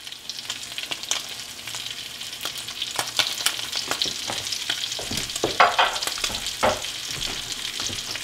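Arctic char fries in a pan with garlic and fresh basil, giving a steady close sizzle with scattered crackles and soft stirring scrapes, alone and moderately quiet.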